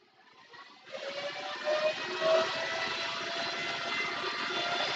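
A spaceship lifts off in a video game with a rising whoosh. A thrust roar swells in after a quiet start and builds with a couple of surges, then holds as a steady, full rushing drone.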